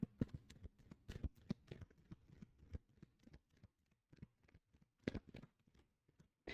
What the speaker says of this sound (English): So I've shuffled this deck many times